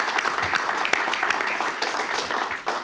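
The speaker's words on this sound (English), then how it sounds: "I hope y'all can give him a round of applause" Applause from the audience at a state transportation board meeting, a steady patter of clapping lasting a few seconds, moderately loud with faint voices mixed in.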